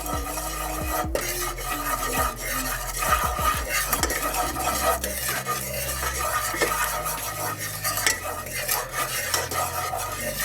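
A honey mixture for crème brûlée is stirred in a pan, with close scraping strokes of a utensil against metal, scattered clinks and a faint sizzle underneath, continuing steadily with no speech.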